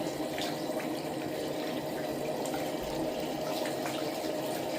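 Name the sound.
water rinsing a Maine Coon cat during bath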